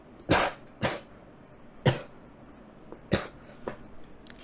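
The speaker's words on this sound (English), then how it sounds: "I'm about to cough again." A lone person coughs repeatedly, five or six dry, moderately loud bursts spaced irregularly about a second apart, close to the microphone in a quiet room with no talk.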